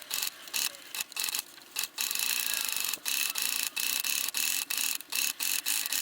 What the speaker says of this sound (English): I'm just going to turn my wheel and sew a little bit and see how it looks